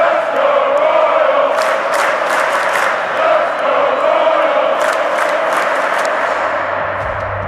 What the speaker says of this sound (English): the announcers would have to raise their voices over the crowd chanting the familiar,